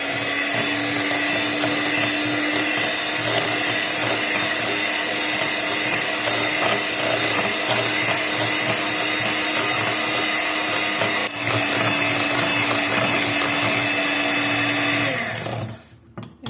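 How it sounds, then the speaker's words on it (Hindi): A continuous electric beater whirs through cream in a bowl, loud and steady with a constant motor whine and a dense whirring texture, then winds down and stops near the end. "अब हम इसको बीट करेंगे, इतना अच्छी तरह बीट करना है कि ये फ्लैट हो जाए"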